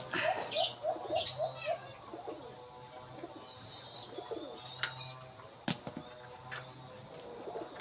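A pet dove or pigeon coos and flaps its wings while being placed into a cage trap for bird hunting. Close, soft calls and wingbeats are broken by a few sharp knocks and clicks from the cage.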